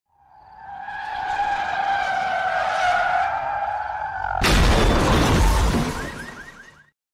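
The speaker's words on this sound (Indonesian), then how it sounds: "ada sebuah mobil yang melaju kencang tidak terkendali menabrak sebuah truk" A speeding car's tires screech in a long skid at night, then a loud crash of impact as it slams into a truck, the smash ringing out with debris for a couple of seconds before silence.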